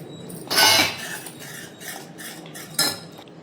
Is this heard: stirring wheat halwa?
yes